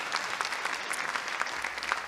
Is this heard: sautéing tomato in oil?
no